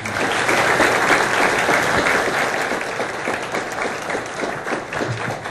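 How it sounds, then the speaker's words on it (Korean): A university lecture audience at Dongguk University bursts into steady, dense applause that stays loud throughout, with no voices over it. "다시 한번 박수"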